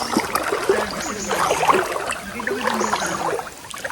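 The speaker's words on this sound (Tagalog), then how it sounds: "Ayan yung tubig, hindi yung flowing na malakas." Gentle, low-key flowing water trickles and burbles steadily nearby outdoors, soft and continuous with light splashy textures.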